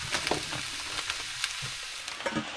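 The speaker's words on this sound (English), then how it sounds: "Onions are getting close. Put our chicken in there." Sous vide chicken and onions sizzle in a pan for mole tacos, a continuous frying hiss broken by sharp spatula scrapes and clatters as they are stirred.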